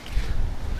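Gusty outdoor wind in Spanish Fork buffets the microphone with a steady low rumble for under a second, no voices present.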